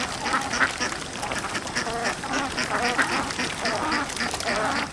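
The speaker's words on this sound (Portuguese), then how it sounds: "Patos." Several ducks quack continuously in a busy, overlapping chorus, fairly close and steady throughout with no other voices.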